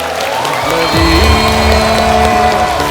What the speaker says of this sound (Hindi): थैंक यू अरिजीत के लिए तालियां।